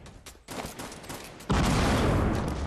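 Rapid video game gunfire hits a wall as a dense, continuous burst of shots that starts softer and then jumps to a loud, sustained barrage partway through.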